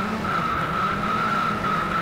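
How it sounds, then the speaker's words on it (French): Race car in a racing video game braking hard, a sustained high tire squeal holding steady for a couple of seconds over a continuous engine drone, loud and close. "Ça, ça freine dur là"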